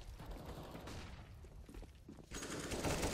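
Counter-Strike: GO gunfire during a professional match on the Mirage map, with bursts of rifle shots and mechanical clatter at moderate distance, quiet overall and swelling toward the end.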